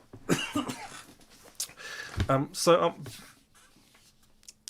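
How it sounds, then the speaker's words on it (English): A person coughs a few times up close, harsh bursts with short pauses between, followed by quiet. "excuse me, I'm going to cough."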